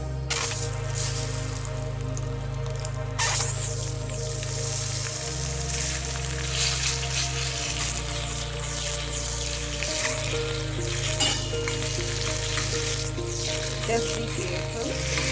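Masala curry frying in a pan as eggs are slowly added, a steady close sizzle with occasional soft clinks and stirring under a continuous low hum.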